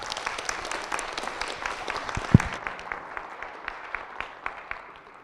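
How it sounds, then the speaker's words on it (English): An audience at a Manila forum claps for a speaker who has just finished her talk, a steady round of many hands that swells briefly and then thins toward the end, with no one speaking over it. "Please give her another round of applause"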